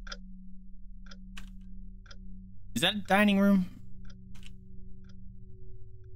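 A grandfather clock ticks steadily in a room in the video game Rakuen, faint regular clicks about a second apart over a low hum, with someone briefly talking over it midway.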